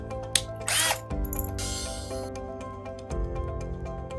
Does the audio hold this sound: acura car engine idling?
no